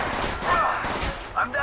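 Gunfire in the mobile battle-royale shooter Apex Legends Mobile, a dense burst of overlapping shots with game voice callouts mixed in over the whole stretch.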